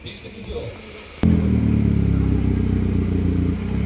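An Audi car at a VAG car meet, its engine rising to a loud, steady roar as it passes close by, with faint talk and background noise just before.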